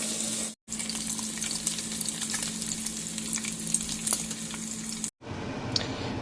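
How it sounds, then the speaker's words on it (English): Bacon and a slice of bologna fry in a pan on a stove, giving a steady close sizzle with spattery crackles, briefly cut off twice. "I'm frying some bacon and I'm frying a piece of bologna"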